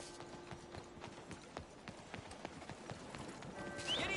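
Horse hooves clip-clop steadily on the ground in Red Dead Redemption II, a continuous rhythmic trot with scattered clatter and ambient noise, growing slightly louder toward the end.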